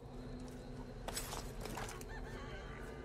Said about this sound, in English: The chickens are very unbothered.